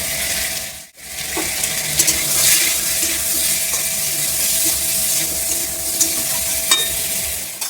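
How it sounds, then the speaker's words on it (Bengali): Vegetables sizzle steadily in an oiled pan with turmeric and salt, a continuous bright frying hiss with occasional stirring scrapes and a brief dip near the start, no voices. "এবার সবজি আমার সাতলানো হয়ে গেছে"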